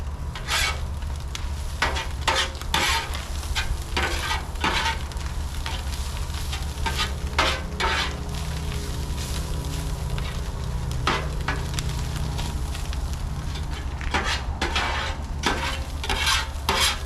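Sauerkraut, onions and jalapenos sizzle steadily on a grill while a utensil scrapes and stirs through them in repeated strokes, with no talking.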